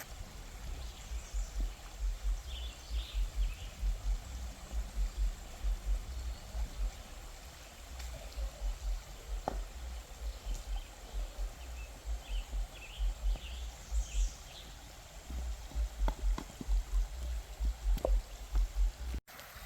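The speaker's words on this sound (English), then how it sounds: "You can actually see some of the rocks of the bed sticking up through and the water riffling over." Shallow stream water riffles over rocks sticking up from the bed in a wetland natural area, a steady close babble with rapid pulsing splashes and no talk.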